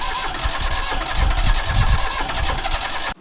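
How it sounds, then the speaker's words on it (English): A sailboat's marine engine catches and starts up, settling into a loud, steady rough idle with low rumbling pulses throughout, close by and with no talking. "We want to start this episode off by letting you know that the engine did start"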